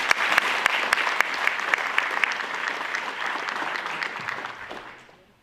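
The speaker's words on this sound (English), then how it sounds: "let's give them a round of applause" An audience gives a round of applause for anthem singers at a military healthcare facility change of command ceremony, steady loud clapping with a few sharp claps standing out, tapering off at the end.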